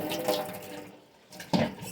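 Tap water runs briefly into a reusable bottle, a soft hissing stream that fades, pauses, and resumes with a splash near the end, close and fairly quiet.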